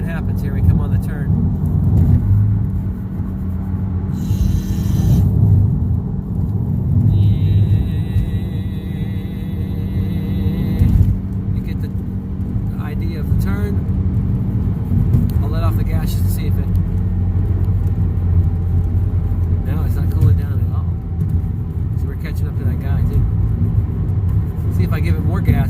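Turbocharged Volkswagen GTI engine accelerating while driving, a steady low cabin rumble under continuous talk from the driver.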